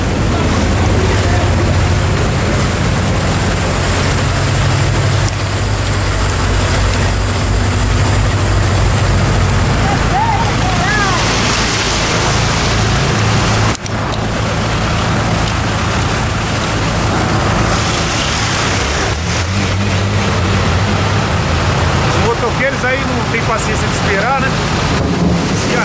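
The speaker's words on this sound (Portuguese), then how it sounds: "A Avenida Anhangabaú, aqui na Vila Prudente, tá tudo inundado de água" Flooded Avenida Anhangabaú in Vila Prudente, São Paulo, with water churning and rushing through the street amid passing traffic and heavy wind buffeting on the microphone, loud and continuous throughout.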